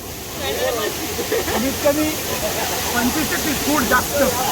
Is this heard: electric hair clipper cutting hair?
no